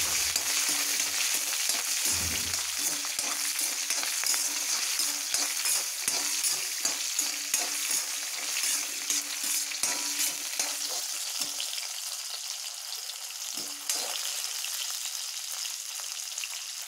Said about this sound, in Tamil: நல்லா வதங்கிடுச்சு.